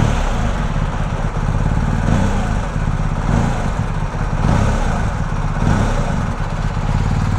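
A BMW GS 1250 shaft-driven motorcycle with its loud stock exhaust gives a steady, close, heavy engine rumble that holds evenly throughout.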